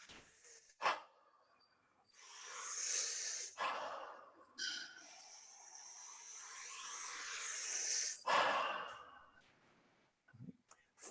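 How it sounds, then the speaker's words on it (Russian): Deep, forceful breaths of a fountain breath breathing exercise, long noisy inhales and rushing exhales repeating in slow cycles, close and loud with short pauses between. "Fountain breath."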